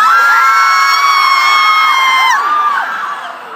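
A group of audience members at a convention script reading imitates chaotic screaming, a loud, sustained crowd of overlapping shrieks and yells that wavers and slowly fades near the end.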